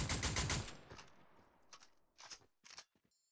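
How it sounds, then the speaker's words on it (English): A Fury Assault Rifle fires in Fortnite, opening with a quick, loud burst of fast shots that trails off into a few separate shots and short bursts, with no voices. "The other assault rifle is the Fury Assault Rifle."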